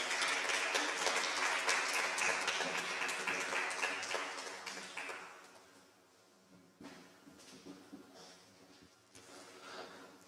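An audience applauds the first-place team at a 2022 AI competition awards ceremony, the clapping dense for about five seconds and then thinning to scattered claps.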